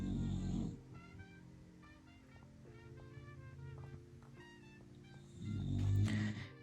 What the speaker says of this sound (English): your dog was snoring this loud in the background